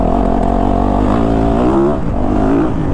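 Engine of a 2022 Yamaha YZ450FX four-stroke off-road motorcycle while riding, a loud close rumbling drone with rising and falling pitch as the throttle changes, continuous for a few seconds.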